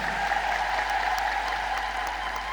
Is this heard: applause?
yes